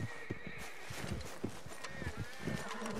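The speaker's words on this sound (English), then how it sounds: "Oh, that's a horse." Horses in the video game Red Dead Redemption 2, with neighing and whinnying over clip-clopping hooves and farm-animal ambience, fairly faint and continuous throughout.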